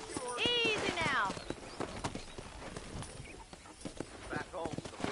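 A horse in a cowboy video game whinnies loudly at the start, then hooves clip-clop in a steady rhythm as someone talks over them.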